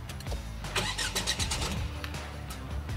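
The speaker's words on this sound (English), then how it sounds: "And the all-new Hyperion engine comes into life." A Tata Curvv's manual-version Hyperion engine starts with the push button, a brief cranking whirr that catches into a steady idle, heard up close inside the car.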